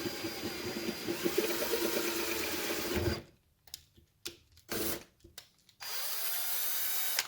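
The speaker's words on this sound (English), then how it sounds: "So just go slow, let the drill do its work" Power drill boring into a soft rubber Gold Strike motorcycle grip to fit a Lidlox helmet lock, a steady close whine for about three seconds, then short stop-start bursts and a final sustained run, with no talking.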